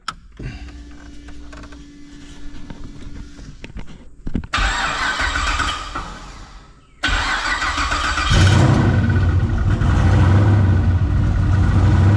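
A hot rod drag car's engine cranks after a few mechanical clicks and whirs, catches, and settles into a loud, close, steady idle with a deep rumbling drone; no voices.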